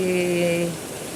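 Rain falls steadily in a flooded area where children are bathing in it, a soft continuous hiss that is briefly overlaid at the start by a short sustained tone before the rain carries on alone.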